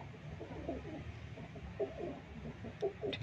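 A female Kasuri bloodline breeder pigeon in Lahore gives several soft, low coos in short bursts, close and fairly quiet over faint background hum.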